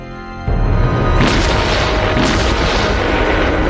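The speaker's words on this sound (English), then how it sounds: "the Germans wheeled out the K5 to shell the embattled Allied beachhead" German K5 railway gun firing shells at the Anzio beachhead in 1944: a sudden loud, deep boom that rolls on into a sustained heavy rumble with a second surge, dense and continuous throughout.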